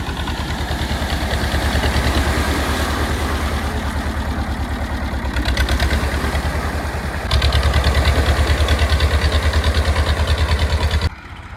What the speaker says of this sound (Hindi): सोनालिका कर लिया स्टार्ट